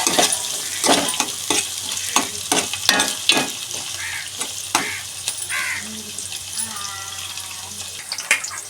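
Onions softening in a pan for a home-style mutton curry, with a low sizzle under a string of loud, irregular spoon clacks and scrapes against the pan, no one speaking.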